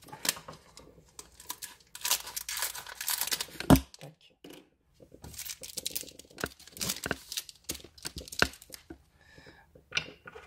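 Scissors cut open the packaging of a Dragon Ball Super card game, close up, with bursts of crinkling plastic and tearing, snipping sounds separated by short pauses.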